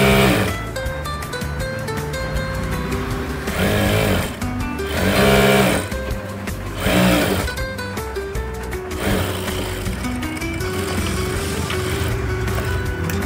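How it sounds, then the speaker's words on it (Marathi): A sewing machine stitches the bottom hem of a simple salwar, running loud and close with a fast, continuous mechanical hum and needle chatter that surges and slows briefly in places. "हा कपडा मॅनेज करत करत आपल्याला शिलाई मारायची"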